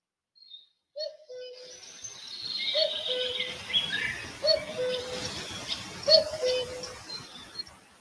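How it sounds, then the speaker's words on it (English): A cuckoo gives its two-note call several times at moderate distance against open-air ambience, with fainter chirps and twitters from other birds behind it. "the clue is in the name. It is a cuckoo."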